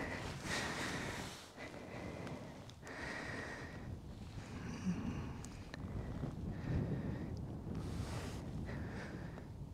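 Wind buffets the microphone in low rumbling gusts, rising and falling over about ten seconds, with no voices, out on a frozen lake during ice fishing at Burtnieks, Latvia.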